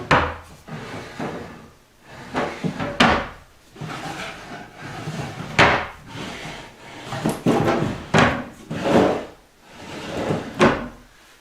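Wooden furniture drawers slide open and shut repeatedly after a sticking-drawer repair, giving a run of close, loud knocks and scrapes spaced about a second apart with no talk.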